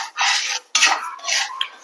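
Rice dry-roasting in a pan on medium gas, stirred in bursts of dry scraping and rustling with brief pauses, close and fairly loud.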